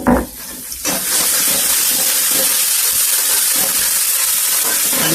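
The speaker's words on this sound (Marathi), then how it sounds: "फोडणी गावाकडची" Village-style tempering crackles in hot oil, a loud, steady sizzling hiss that starts after a brief clatter and continues unbroken at close range.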